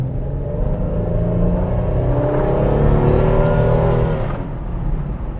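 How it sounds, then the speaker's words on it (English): A 1992 Pontiac Trans Sport GT's rough, slightly offbeat engine accelerates briskly from rest on a UK road, a loud, steady rising drone with building harmonics that eases off near the end. "that rough, slightly offbeat engine sounds absolutely magnificent"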